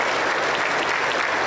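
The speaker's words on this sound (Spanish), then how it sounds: "Aplauso para el Señor Jesús" Applause in a Pentecostal church, a dense continuous roar of clapping from a congregation, loud and close throughout the short stretch.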